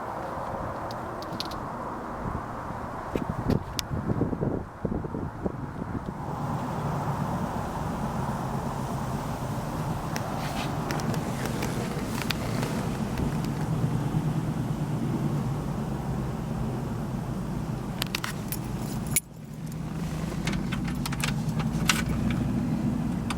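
A classic car in Speed Yellow with a black vinyl interior starts up and idles, a steady engine rumble running close by after some early clicks and rattles, with a brief dip near the end before the idle resumes.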